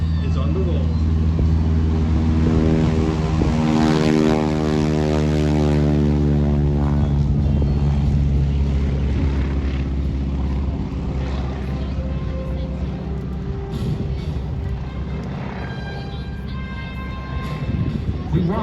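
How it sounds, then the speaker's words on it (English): A North American T-6 WWII advanced trainer's 600-horsepower radial engine roars at full power during the takeoff roll at an airshow, a loud steady propeller drone throughout, with a narrator talking over it. "let's now listen to the sound of more than 600 horsepower as the T-6 is on the roll."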